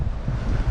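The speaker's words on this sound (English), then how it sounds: "it's very windy like it is everywhere" Wind buffets a microphone in a winter garden with a low, steady rumble for a moment, with no voices present.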